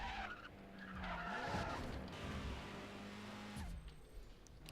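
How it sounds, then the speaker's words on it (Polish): A Lancia Delta in the racing game NFS World: engine revving with tones sliding through gear changes, tires skidding and squealing, and a turbo hiss, heard fairly faintly with no talk over it. "brzmienie silnika, bo przy zmianie biegów fajnie jego turbina działa"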